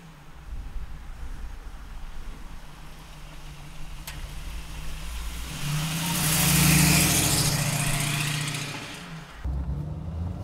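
A 1931 Ford five-window street rod with a 350 engine runs steadily, its low rumble swelling as the revs rise midway, then easing back before an abrupt change near the end.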